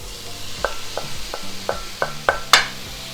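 Meat and vegetables for Philly cheesesteak egg rolls sizzle in a pan while a utensil scrapes and taps against it, a series of sharp clicks growing louder over the steady frying hiss.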